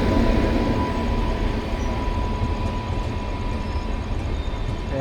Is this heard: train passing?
yes